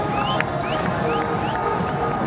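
A cricket crowd cheers Babar Azam's record during a Pakistan versus West Indies ODI at Abu Dhabi, a steady wash of applause and cheering from a modest crowd, with faint whistles over the top.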